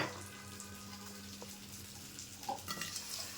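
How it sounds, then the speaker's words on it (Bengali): Potatoes fry in a little oil in a wok, giving a steady soft sizzle with a faint watery hiss. A few brief clacks and bubbling pops rise near the end. "এখন 1 টেবিল চামচ তেল দিয়ে আলুটা ভেজে নেব।"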